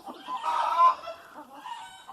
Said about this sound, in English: There goes my little black hen.